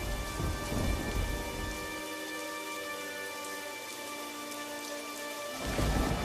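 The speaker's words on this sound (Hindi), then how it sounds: "तभी अचानक से जोर का तूफान आया" Cartoon thunderstorm breaking out suddenly, with a loud thunder crash at the start and heavy rain pouring steadily throughout, the thunder rumbling back in near the end.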